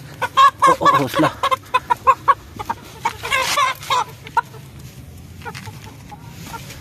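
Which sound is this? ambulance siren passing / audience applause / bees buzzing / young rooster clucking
young rooster clucking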